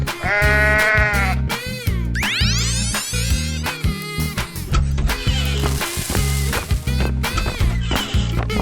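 Loud sheep bleats from a 3D animal slide game, with a strong bleat at the start and more calls mixed into busy music, sweeping effects and clatter.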